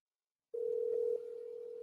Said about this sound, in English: Oh, there's a phone call.